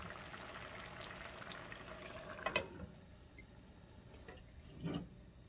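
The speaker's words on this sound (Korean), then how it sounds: "10분만 좀더 졸여주면 될것 같아요." A pot of braised dried pollock with radish greens simmers quietly, giving soft bubbling and faint liquid noise, with a couple of brief clinks or splashes standing out.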